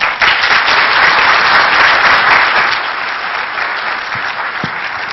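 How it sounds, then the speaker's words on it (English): Sustained audience applause at a security conference, a dense wash of many hands clapping at steady volume, tapering slightly toward the end with no voices over it. "give a warm round of applause to Simple Nomad"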